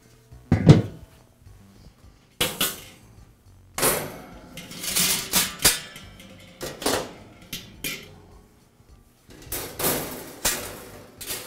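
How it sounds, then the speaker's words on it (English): The lid and metal grates come off a Weber charcoal barbecue grill in a series of sharp metallic clanks and knocks, spaced irregularly with quiet gaps between them, close and fairly loud. "I'll begin by removing the lid and grates from the barbecue."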